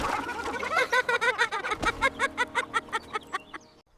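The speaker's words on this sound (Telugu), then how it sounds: "అయ్యో, కోడి కూస్తోంది." A rooster calls loudly and up close in a rapid, rhythmic string of clucking bursts that fades out at the end.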